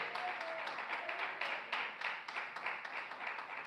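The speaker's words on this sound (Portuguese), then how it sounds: "Palmas de vitória." Scattered hand clapping from a church congregation during a sermon, steady and fairly faint, with uneven claps continuing for a few seconds without speech.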